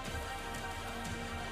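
Steady rain falling in the hills, a dense, continuous hiss of drops on surfaces, loud and even throughout with no voices.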